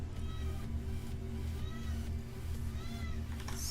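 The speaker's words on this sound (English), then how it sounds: "Now meowing at me." A pet cat meows several times, close and clear, with short rising cries spread across a few seconds over a steady low engine-like hum, and no one speaks.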